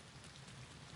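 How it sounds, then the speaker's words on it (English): Steady rain pours down in the video game Boundless, a dense, even hiss that fills a brief moment without any other sounds. "Stop raining."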